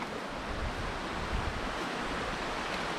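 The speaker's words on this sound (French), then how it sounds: "la rivière à ma gauche" Steady, close rushing water of a river at Yvoir, a dense continuous hiss and roar with no breaks and no voices.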